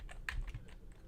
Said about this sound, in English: I'm typing your info in so I don't forget to keep track of the winners.